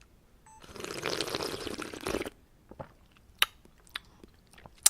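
A slurping sip of seaweed soup during a jokbal mukbang, a close wet rush lasting about two seconds, followed by a few faint mouth clicks and small swallowing sounds.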